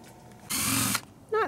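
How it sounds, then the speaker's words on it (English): During an RV repair, a power tool drives screws in one loud half-second burst that stops abruptly, followed by a brief quiet stretch and then a short voice. "Not scary at all when the power tools come out."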